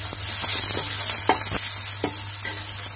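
Onion and green chillies fry in a pan over a high flame, a close, steady sizzle broken by several sharp spatula scrapes and stirring knocks. No one talks.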